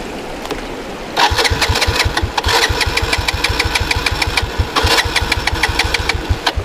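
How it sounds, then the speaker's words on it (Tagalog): A motorcycle starter cranks in rapid, rhythmic chugs that sputter repeatedly without the engine catching after taking in water, loud and close, by a river. "yung motor ko, sumusuko naman yung motor ko."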